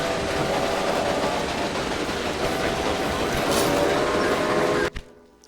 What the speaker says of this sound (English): now we get our new express train